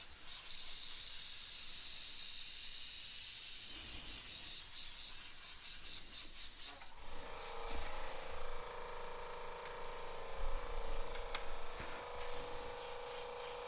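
An airbrush sprays paint onto T-shirts in continuous hissing bursts, faint at first and then louder and steady through the second half, close to the microphone.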